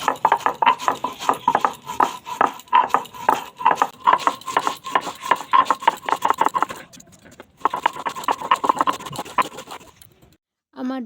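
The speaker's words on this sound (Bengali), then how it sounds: "শিলনোড়া পেতে নিয়েছি, এবার আমি চালটাকে বাটবো।" Rice being ground by hand on a traditional shil nora grinding stone, a steady run of rhythmic scraping and knocking strokes, close and fairly loud, with a brief pause partway through and no talk.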